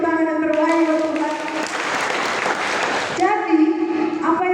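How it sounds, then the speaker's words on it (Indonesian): Church congregation applauding during a Sunday sermon, a broad wash of clapping that swells in the middle of the clip, with a voice speaking before and after it. "Berikan tepuk tangan yang terbaik untuk Tuhan."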